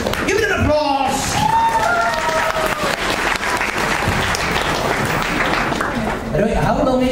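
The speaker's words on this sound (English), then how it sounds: "Give it an applause." Audience applause and cheering at a cosplay dating show at an anime convention, loud and sustained, with voices and talk over it at the start and end.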